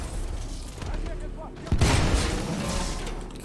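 A sudden loud boom of gunfire in Titanfall 2 bursts out midway and rumbles on over a busy background of game noise.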